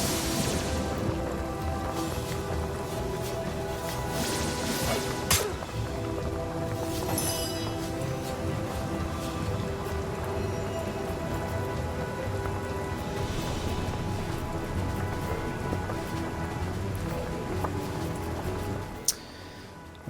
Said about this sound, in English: Need that rain to keep coming down as well.